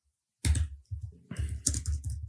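Someone types quickly on a computer keyboard while entering a promotion title, giving a close run of irregular clicks and key taps after a moment of silence.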